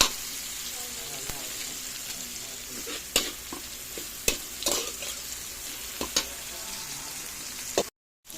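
Kangkong and tofu adobo stirred in a frying pan, a steady sizzle under scattered clinks and scrapes of the spoon against the pan, close up, with brief voices in the background.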